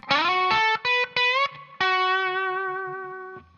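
A distorted electric guitar plays a short blues lick of quick notes, then one note is bent upward and left to ring and fade.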